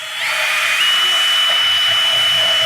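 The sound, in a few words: drilling holes in metal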